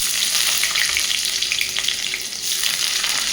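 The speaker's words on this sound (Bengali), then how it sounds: "এবার এখানে পেঁয়াজ কুচি দিয়ে দিলাম" Chopped onions hit hot oil already holding cumin, cardamom, cloves and cinnamon pieces, a steady close broadband sizzle running throughout with faint stirring scrapes and no voices.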